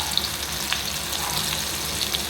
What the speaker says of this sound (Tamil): இப்போ நம்ம சோயாவை போட்டுடலாம்